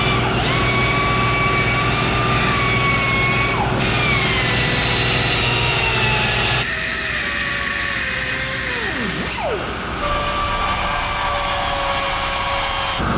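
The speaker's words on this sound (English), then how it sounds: "Just trying to grind this little jack handle crank off" An angle grinder cuts into a small metal jack handle crank, a loud steady whine that shifts pitch and dips as the disc bites, running without pause beneath engine-like drone.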